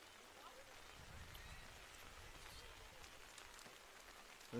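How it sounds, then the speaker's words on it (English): Steady rain pours down over an outdoor football pitch during a cup match, a dense, even hiss of drops on surfaces that holds moderately loud throughout, with faint crowd or voice sounds beneath. "Rain getting a bit heavier coming down."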